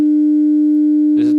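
Pure sine tone at about 302 Hz, a steady loud hum held for over a second before a voice begins talking over it near the end.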